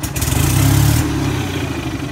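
A golf cart motor pushed to full throttle, a loud close rough engine drone that is thick and buzzing for the first second and then eases to a steadier hum.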